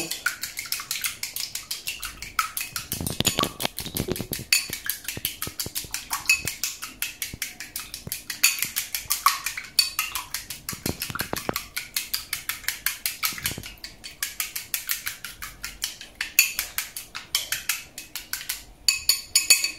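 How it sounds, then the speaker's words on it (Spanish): An egg is briskly beaten in a bowl for fried rice, giving a fast, steady run of light clicking and tapping strokes that carries on for the whole stretch with only brief pauses. "Batimos bien el huevo"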